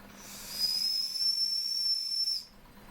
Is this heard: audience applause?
no